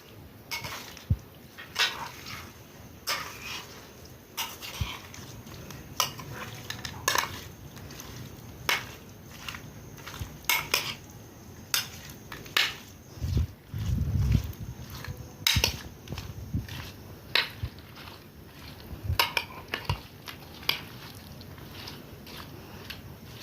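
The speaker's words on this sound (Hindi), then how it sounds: "अब हम कर देंगे इन सबको मिक्स।" A spoon stirs and mixes creamy fruit chaat ingredients, mayonnaise, milk and yogurt cream with fruit, in a bowl, giving repeated soft clinks and taps against the bowl at an irregular rhythm, close and fairly quiet.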